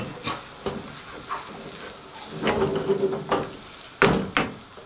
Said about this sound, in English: Medium heat, simmer it for about 5 minutes, let it reduce